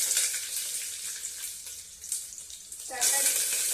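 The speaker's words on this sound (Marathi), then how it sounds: "मी हे थोडेसे काजू आहे ते पण टाकून घेत आहे फ्राय" Cashews fry in hot oil in a pan for daliya khichdi, a bright crackling sizzle that fades and then jumps louder near the end, with faint background sounds and a possible voice.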